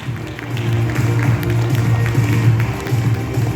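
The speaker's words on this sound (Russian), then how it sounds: "Аплодируем, друзья! Давайте аплодисментами встречаем!" Audience applause and clapping at a Russian award ceremony for a film, a steady, full wash of hands that holds at a constant level throughout, with low tonal music or hum running beneath.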